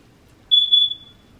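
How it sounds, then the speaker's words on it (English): An indoor smoke alarm with a low battery gives a single high-pitched electronic chirp lasting about half a second against a quiet room, with no talking. "I'm sorry about that beeping sound I keep hearing in the background."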